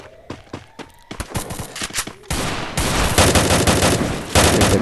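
AN-94 assault rifle gunfire in the Free Fire mobile battle game: rapid bursts of shots, first in short separated cracks, then dense sustained automatic fire that grows louder and continues to the end.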